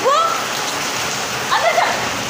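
A sudden downpour of rain hits the ground and nearby surfaces in a dense, steady hiss close by. A couple of brief higher squeaks or calls rise faintly above the rain.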